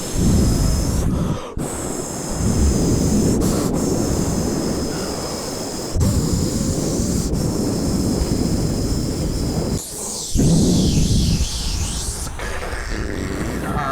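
A voice imitates a loud air conditioner, producing a loud, rough sustained roaring hum in long stretches broken by brief pauses, close to the microphone.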